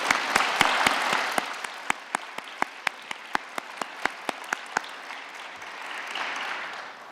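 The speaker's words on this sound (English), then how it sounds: "And can we get a round of applause?" A crowd at a journalism prize award ceremony applauds: a broad wash of clapping with a string of sharp, loud individual claps standing out at a steady beat, continuing for several seconds.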